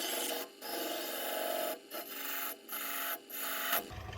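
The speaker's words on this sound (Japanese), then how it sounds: "これ一応320番ぐらいな砥石なんですけど、結構削れてしまうんですよね。" A gyuto kitchen knife ground on a 320-grit whetstone, long rasping strokes with brief pauses between them, close and steady with no talk.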